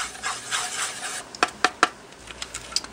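A mix of mica powder, gum arabic and water being stirred in a small container, heard as close, soft scraping and rubbing followed by a few sharp little taps and clicks against the sides.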